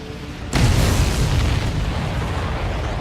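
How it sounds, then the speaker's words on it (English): In the video game Ace Combat 7, a missile explosion hits abruptly as a single loud boom, then trails into a thick, roaring rumble that slowly fades. "Did you see that explosion?"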